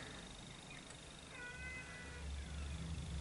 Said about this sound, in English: that is the cat wanting feeding